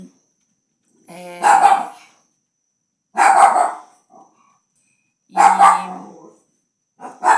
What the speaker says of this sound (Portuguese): os cachorros começaram a correr